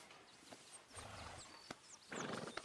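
A horse in Red Dead Redemption 2 makes snorts, breathy huffs and hoof movements in a quiet outdoor setting with birdsong, the sounds coming in short bursts at low volume.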